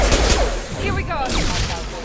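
Mass Effect 2 firefight against hostile mechs, with close, continuous gunfire crackling over a noisy battle bed for about two seconds.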